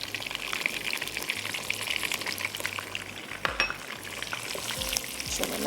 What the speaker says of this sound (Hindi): अदरक लहसुन के पेस्ट के साथ इसको हम थोड़ा सा भून लेते हैं।